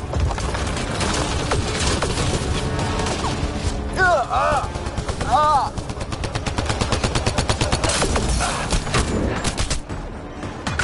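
Heavy gunfire in the Mass Effect Andromeda video game, rapid continuous machine-gun bursts with short sharp shots throughout, loud and close, with a brief high whining effect in the middle and voices shouting over the din.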